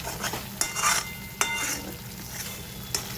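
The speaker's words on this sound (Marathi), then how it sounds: "आता याला मस्त असं तेल सुटेपर्यंत परतून घ्यायचं" Misal masala paste sautéing in oil in a pan, a steady soft sizzle with occasional sharp clinks of a spoon stirring against the pot.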